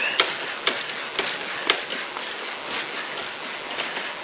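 A ratchet clicks in short repeated bursts while tightening a bolt during the lowering of a 2014 Harley-Davidson Softail Slim, close and fairly clear over a light background hiss.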